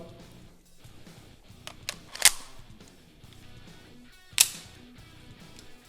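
Two sharp, separate pistol shots from a Beretta M84FS at a shooting test crack out a couple of seconds apart over quiet outdoor background.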